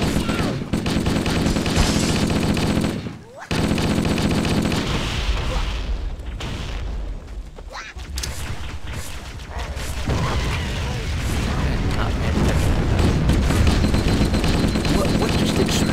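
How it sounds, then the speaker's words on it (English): Explosions and gunfire in a modded Halo video game erupt in dense bursts of booms and rapid shots, loud and sustained, with a brief drop to near silence partway through. "What just exploded over there?"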